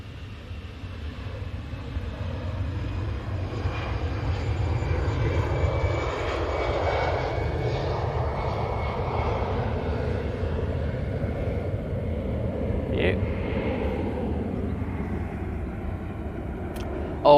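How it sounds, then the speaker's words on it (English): A TUI airliner passes overhead, its jet engines a sustained, fairly distant roar that slowly swells and shifts in pitch over many seconds, with a faint click at the very end. "Oh, Tui's coming over here."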